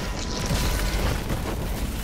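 Tactical shotgun firing during a Destiny strike, heard as a dense, booming low-end burst that sustains as a rumbling wash across the whole short moment, loud and close without speech.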